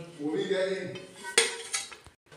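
Sweet yellow rice being served onto a plate, a utensil scraping and clinking against dishware in a few close, sharp knocks with soft rustling between, ending with a brief pause and a final tap.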